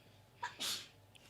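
One quiet human sneeze comes as a short intake followed by a burst, heard nearby against a faint steady background hum.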